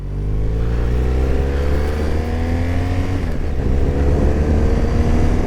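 A 2016 BMW R1200RS motorcycle engine running on a ride, a loud steady drone with harmonics that rise gradually as it pulls, close and constant throughout with no voices.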